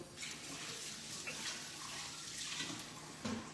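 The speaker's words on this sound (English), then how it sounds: "let me rinse off my spoon" Tap water runs steadily into a kitchen sink while a spoon is rinsed under it, a soft continuous wash with small splashy clinks near the end, close by and alone.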